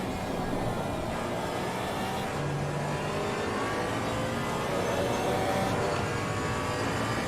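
A GT4 race car in a sim racing game at Suzuka, carried under braking through the Spoons corner, its engine a steady loud drone with shifting tones and no speech.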